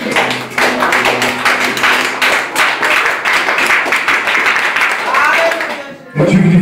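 Congregation in a church clapping hands together in praise, a dense, steady wash of applause lasting several seconds, with a brief lull near the end before clapping resumes loudly.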